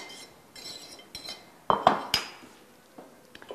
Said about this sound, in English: we're going to stir them with a fork and mix them till they get a little frothy